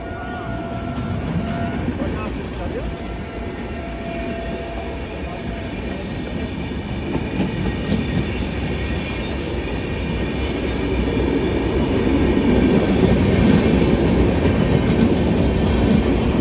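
Vikramshila Express passenger train rolling slowly through heavy fog, a steady rumble of wheels and rail clatter that swells louder toward the end as the cars pass close by.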